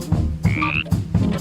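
Croaking frog sound effect in a storybook, four loud, close, rhythmic croaks in quick succession, with a brief rising whistle-like tone between them and no talking.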